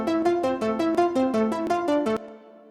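Roland Jupiter 6 synth intro for an animated show's theme played forward: a bright, plucky arpeggio of about ten quick notes with short decays, clear and close, ending with a faint tail.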